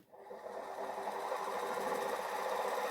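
A battery-powered electric motor turning slowly on a single battery, giving a steady, continuous whirring hum with a rattly texture that starts abruptly and holds even and fairly loud throughout, with no talk over it.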